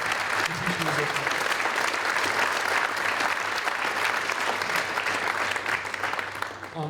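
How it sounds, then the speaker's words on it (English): An audience at a winter band and jazz band concert claps in a full, sustained round, loud and continuous, with a little crowd murmur underneath. "please give them a round of applause"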